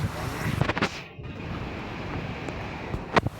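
Floodwater rushes through a street during heavy rain in Jeddah, a continuous washing roar mixed with wind buffeting on the microphone, with a few sharper splashes or knocks rising above it.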